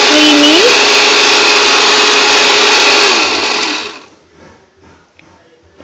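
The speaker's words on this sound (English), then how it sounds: "Now we're going to beat in the butter till it turns creamy." An electric egg beater creaming butter for a vanilla cake whirs loudly and steadily with a brief pitch rise at the start, then winds down and stops about four seconds in, leaving quiet handling noise.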